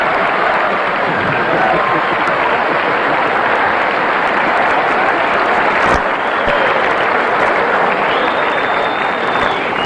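Studio audience applause on a late-night talk show set, loud and sustained across the whole stretch as a dense, even wash of clapping with some crowd noise mixed in.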